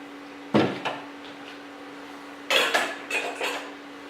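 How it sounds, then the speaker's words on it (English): Food is served onto dishes with a few sharp knocks and clatters of utensils against plates, one near the start and a cluster later, over a faint steady hum. "Let's go ahead and serve the food."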